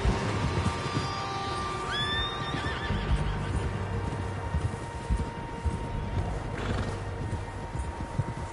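Several horses in the video game Red Dead Redemption 2 whinny with a rising, shrill neigh and a later shorter one, over a steady bed of clip-clopping hooves and outdoor ambience, fairly close and loud.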